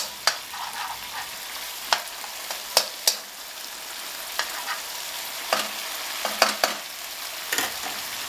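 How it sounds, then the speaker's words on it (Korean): Ingredients stir-fried in a pan over adjustable heat, a soft steady sizzle broken by sharp irregular scrapes and taps of the utensil against the pan, close and alone with no voices. "재료들이 타지 않도록 불을 조절해 가면서 잘 볶아주면 된다."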